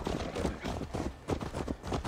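Horse hooves clip-clop in a quick, rhythmic gait in the video game Assassin's Creed Valhalla, close and fairly loud over a short stretch with no talk.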